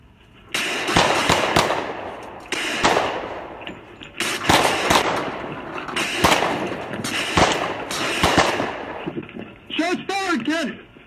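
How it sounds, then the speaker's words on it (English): Gunfire erupts in a Washington County, Arkansas sheriff's deputy shootout, with repeated sharp bursts of rapid shots in clustered volleys, loud and harsh, ending with a siren wail. "I've got a sheriff, Washington County Sheriff in a gunfight out here with somebody."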